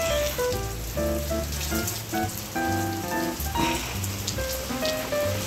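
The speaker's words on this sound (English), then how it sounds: "and here is the rain." Steady rain from an incoming storm falls in a continuous hiss, with music playing prominently over it throughout.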